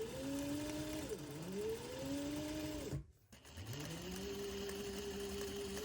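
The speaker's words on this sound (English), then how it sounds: "I'm going to sew another long scrap on" A sewing machine stitches long fabric scraps onto a quilted bag, running in steady close bursts that rise and slow in pitch, with a brief pause midway before stitching resumes.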